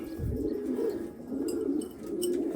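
Racing pigeons coo softly in a loft, a steady low murmur of rolling calls rising and falling throughout, with no voices.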